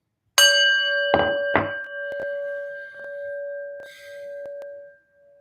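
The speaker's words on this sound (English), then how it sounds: "let's listen to our prayer bell." A single bell is struck, giving a ringing tone that lingers and slowly fades, with a few soft knocks and rattles as it sustains.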